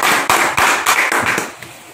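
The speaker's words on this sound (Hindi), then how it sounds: "तो एक बार इनके लिए भी ताली बजा दीजिए।" A short burst of clapping from an audience, about seven sharp, spaced claps in a rough rhythm, close and loud, fading toward the end.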